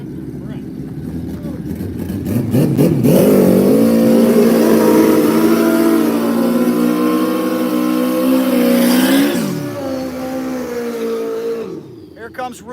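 A turbocharged drag racing motorcycle at Rockingham Dragway revs loudly and close by, its engine note climbing and holding for several seconds before dropping away, with an announcer talking over it.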